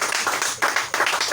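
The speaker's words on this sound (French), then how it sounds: "Acclame le Seigneur Jésus." Congregation applauding in a church, a close, dense patter of many hands clapping in quick successive waves with no talk over it.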